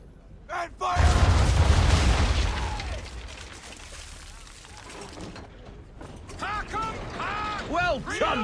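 A ship's cannon broadside from Assassin's Creed III fires with a sudden loud blast, followed by a deep rolling rumble that fades over a few seconds. Creaking and voices follow after it.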